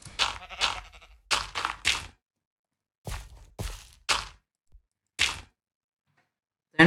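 Several video game sheep bleat in a run of short, wavering cries, then a pause before a few more scattered bleats, fairly close and clear with no talking.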